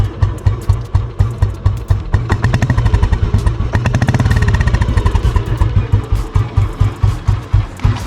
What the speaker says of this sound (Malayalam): സൈലൻസറിൽ നിന്ന് മാത്രമാണ് വണ്ടിയുടെ സൗണ്ട് വെളിയിലോട്ട് വരുന്നത്.